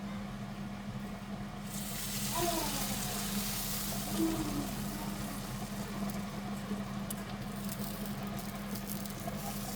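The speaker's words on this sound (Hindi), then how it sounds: "देसी घी और लाल मिर्च लहसुन को हल्का सा लाल करके तड़का दिया" A soft, continuous sizzle and patter of garlic and red chili frying in ghee, with faint stirring scrapes and a low background hum.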